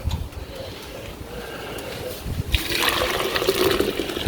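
Water for a second rinse sloshes and pours during gold recovery from inlaid circuit-board fingers: quiet swishing at first, then a louder, splashing rush of liquid in the second half.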